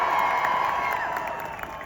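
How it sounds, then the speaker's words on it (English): Crowd cheering at an outdoor ceasefire protest in London, a broad, steady roar of many voices with scattered whoops that gradually tapers off. "Let's start by cheering for the South Africans and say thank you to them"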